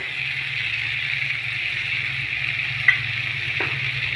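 Potatoes and tomato fry in a pan with salt and turmeric, giving a steady, close sizzle that holds even throughout, with one brief clink partway through.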